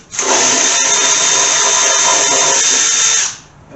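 A power tool spins up to remove oil pan bolts on a Chevrolet big block 454 under a Stingray, one loud, steady high-pitched whir for about three seconds before winding down, close and alone.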